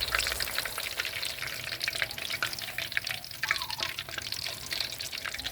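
Battered enoki mushrooms deep-frying in oil over medium heat, a dense continuous crackling sizzle with some bubbling, close and steady for the whole stretch, with no speech.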